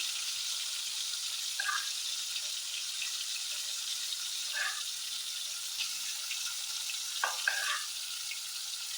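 Steady hissing sizzle of soya chunks frying in oil, faint and continuous, with a few soft clinks of stirring.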